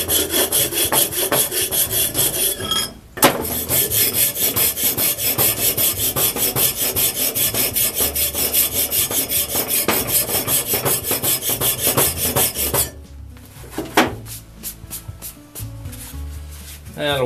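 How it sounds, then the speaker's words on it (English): Sandpaper rubs steadily against a blow torch being cleaned up in a workshop, a continuous rasping scrape that runs for about thirteen seconds, breaks briefly near three seconds, then gives way to a few quieter scratchy strokes. "So I'm going to take some sandpaper and clean that up."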